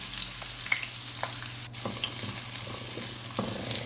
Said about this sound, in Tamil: வெங்காயம் சேர்த்துட்டு இது நல்லா வதக்கி விட்டுக்கலாம்